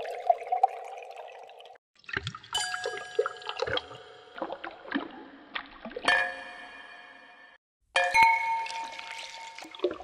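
Liquid pours into a glass in a cinematic sound-effect sequence, with separate bursts of trickling and splashing broken by short silences and bright glassy ringing tones.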